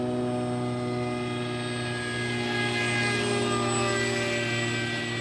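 A radio-controlled J-20 model jet flies slowly overhead, giving a steady, continuous motor drone with a constant pitch that stays level and unbroken for the whole stretch, with no talk.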